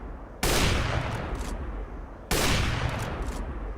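Two loud, close gunfire bursts in a Counter-Strike co-op mission, each a sharp onset followed by a dense rattle of rapid shots lasting about two seconds, with no talk.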